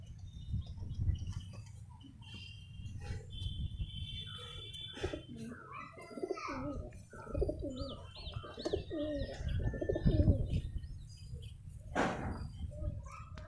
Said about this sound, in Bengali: এই একটা নর পায়রা